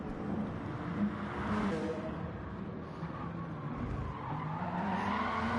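Race car tyres skidding and squealing as an Alfa Romeo GT car drifts at Red Bull Ring in a sim racing event, a steady smeared screech over the engine drone, moderately loud throughout.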